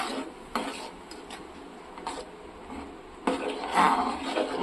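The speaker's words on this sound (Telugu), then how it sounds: "ఒక స్పూన్ కారం కూడా వేసుకున్నాను కలుపుకుంటున్నానండి" A spoon stirs chili powder into moong dal rasam in a metal pot, giving soft scraping and a few sharper clinks against the pot's sides, close by and alone, with the clatter picking up toward the end.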